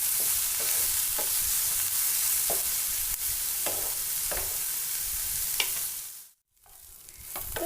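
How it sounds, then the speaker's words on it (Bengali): Sliced onion, pointed gourd and egg fry in a pan with a steady, loud sizzle while a spatula scrapes and stirs at irregular intervals. A brief silent gap falls near the end before the frying returns. "এখন এই তিনটি উপকরণকে আমরা একসাথে খুব ভালোভাবে ভেজে নেব।"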